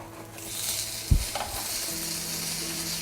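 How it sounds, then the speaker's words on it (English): Stilton cheese sizzles in a frying pan, a soft steady hiss with one brief clunk of the pan being moved, faint and with no talk. "Stilton cooking in a pan, can't beat it"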